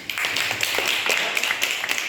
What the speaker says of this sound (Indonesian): Mari kita kasih tepuk tangan untuk mereka.